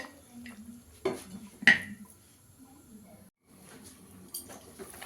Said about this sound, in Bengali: একটু চাপা দিয়ে দেবো।